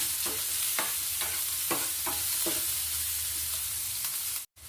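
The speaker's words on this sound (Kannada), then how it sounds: "ಈರುಳ್ಳಿಯನ್ನು ಮಿಕ್ಸ್ ಮಾಡ್ತಾ ಇದ್ದೇನೆ." Onions fry in a pan and are stirred by hand, with a steady sizzle and a few close scraping strokes of the spoon early on.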